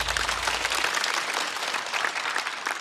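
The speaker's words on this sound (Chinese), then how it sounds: "再次掌声送给小帕" Studio audience clapping for a stand-up comedian on a comedy show, a continuous dense wash of applause throughout, with a low hum at the very start.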